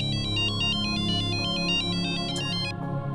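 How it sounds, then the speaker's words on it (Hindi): A phone rings with an incoming call in a family TV serial: a loud, steady, repeating electronic ringtone of bright pulsed tones that continues for about three seconds before cutting off. "मैडम का फोन है।"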